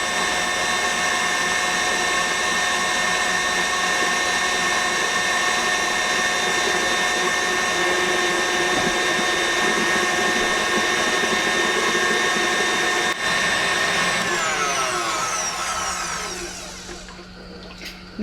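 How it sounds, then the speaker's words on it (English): Electric mixer beating egg yolks as warm milk is poured in, a steady loud motor drone running continuously with no talk, slowing and fading out at the end. "add the boiled milk into the warm milk into the egg yolks while beating"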